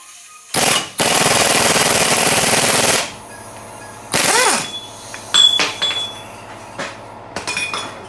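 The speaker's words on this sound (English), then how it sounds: "We got that ball joint to press out almost all the way" Air hammer gun pressing out a ball joint on a 2002 Chevy Trailblazer: a loud sustained rattling burst, a short pause, then a longer two-second hammering run, followed by a briefer burst and scattered metallic taps and clinks.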